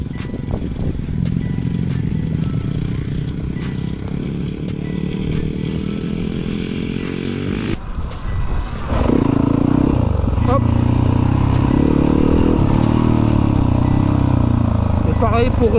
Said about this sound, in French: C'est je débraye bien, j'appuie assez fort pour passer ma vitesse.